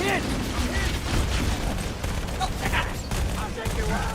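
Rapid video-game SMG gunfire crackling in dense bursts through a busy battle mix, with shouted voices and other combat effects layered over it.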